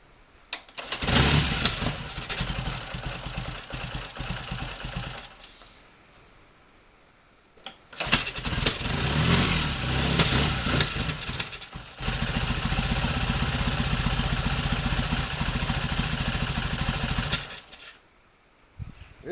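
A Triumph 3TA trail bike engine starts and runs in loud close bursts, cutting out between them, then holds a steady rough idle before stopping, with no talking.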